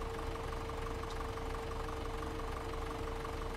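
A tractor engine idling in Farming Simulator 17, a steady, unbroken mechanical hum with a faint knocking texture and a constant whine, running alone without talk.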